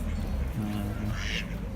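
Ducks quacking nearby outdoors, a couple of short nasal calls mixed with people talking over steady background noise.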